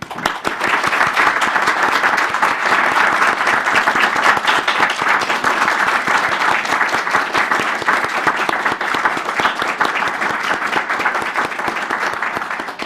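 A large audience applauds students at a live national read-along of the Bill of Rights, a dense, even wash of clapping that holds for over ten seconds before tapering slightly.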